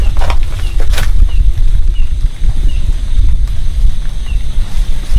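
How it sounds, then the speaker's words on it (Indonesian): Strong gusts buffet the microphone with a loud, low roar, rising and falling continuously with no voices. "Tiba-tiba ada angin kenceng."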